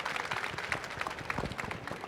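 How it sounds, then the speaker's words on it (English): Steady applause from a conference audience at a startup ecosystem panel in Japan, a dense wash of clapping held at even volume for the whole stretch, with no talk. "please end this with a big round of applause for our amazing panelists here"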